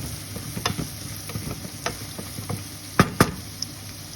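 Shrimp and spinach are stirred in a frying pan, with a soft sizzle beneath a string of scraping, tapping spatula strokes and two sharper clacks near the end.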